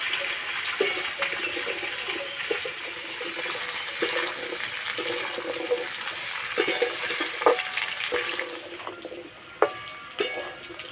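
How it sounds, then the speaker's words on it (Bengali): Mixed vegetables such as carrot, radish, sweet potato, potato and cauliflower sizzle and fry in a pan over low heat, with repeated scraping stirs of a spatula clattering against the metal, close and steady, without speech. "এইভাবে কষাতে থাকবো।"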